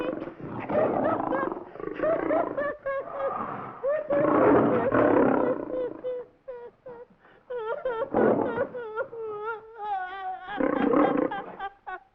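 In the comedy film Africa Screams, a lion lets out long, drawn-out roars and moaning growls in several loud bursts separated by short pauses.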